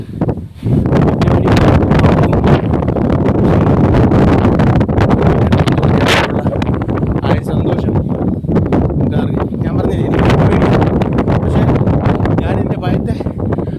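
Strong wind buffets the microphone with a loud, steady roar for the whole stretch, broken only by brief gusty surges.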